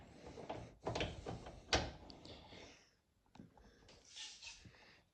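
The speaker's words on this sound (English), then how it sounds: "How do you unlock these garage doors?" A garage door being tried and unlocked, with several clunks and rattles of the door and its latch, close by and fairly quiet, separated by short pauses.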